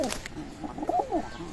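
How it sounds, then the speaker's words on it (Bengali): A running pair of Teddy pigeons, an adult pair of KTM bloodline, coos softly nearby in a few low, rolling calls over a quiet background. "এক পেয়ার কবুতর আছে রানিং পেয়ার"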